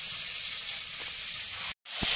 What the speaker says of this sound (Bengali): এবারে চিংড়ি মাছগুলো ভালো করে ভেজে নেব।